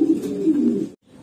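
A large Mondain pigeon gives a single close, low, throaty coo lasting about a second before cutting off, with faint rustling after.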